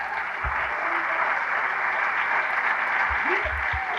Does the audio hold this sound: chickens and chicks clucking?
no